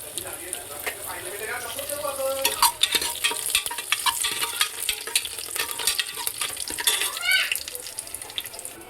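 Curry leaves and asafoetida sizzle in hot oil, a busy crackling fry with sharp spits and stirring clatter up close, plus running-water sounds in the background.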